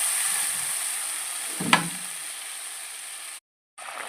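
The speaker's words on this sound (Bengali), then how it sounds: "এবার পরিমাণ মতো জল দিয়ে দিব" Water poured into a pan of sizzling egg curry sets off a steady, bright hiss of frying, with a brief clatter of a utensil partway through and a short break in the sound near the end.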